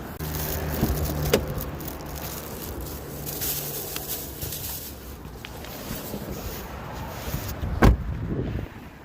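A food delivery driver gets into a car with an order: keys jangle, a door rattles and thuds, footsteps and shuffling sound close by, and a sharp door slam lands near the end over quiet background.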